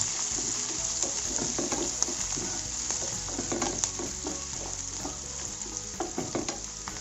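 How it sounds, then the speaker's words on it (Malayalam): Green chilies sizzle steadily in hot oil in a pan for a potato paratha stuffing, a close, continuous frying hiss broken by repeated scraping stirs throughout. "പച്ചമുളക് ചേർത്ത് കൊടുക്കുക. എന്നിട്ട് നന്നായി ഒന്ന് വഴറ്റി കൊടുക്കുക"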